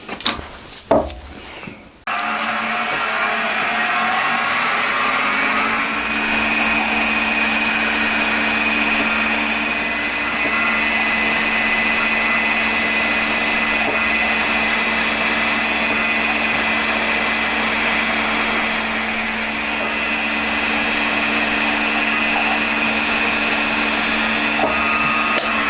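A drill bores holes in a Honda Monkey engine part, a couple of brief clatters before a steady, loud whining drone that holds on continuously with slight shifts in pitch, no talk over it.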